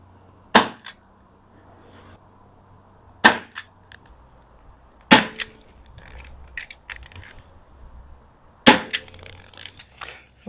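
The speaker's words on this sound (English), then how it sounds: "Let's give it a couple shots here." A Bug-A-Salt salt gun with a Shred-Er reload fires four sharp cracking shots spaced a few seconds apart, each followed by faint clicks and rattles, close up with no talk.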